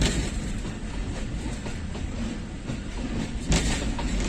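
The Rawalpindi Passenger train of Pakistan Railways rolls along with a continuous rumbling roar and faint rhythmic wheel clatter, heard steadily from on board and loud, without voices.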